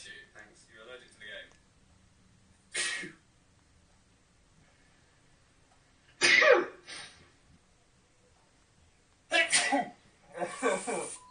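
Several sharp, explosive human sneezes from two men with seasonal Christmas colds or allergies, arriving as loud isolated bursts every few seconds with quiet gaps, mixed with brief talk and laughter.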